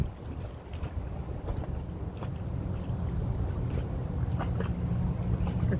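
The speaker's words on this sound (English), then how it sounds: "This little sailboat's zooming along here under motor." A small sailboat under motor passes by on open water, heard as a steady low engine drone with wind and water wash rising slightly toward the end.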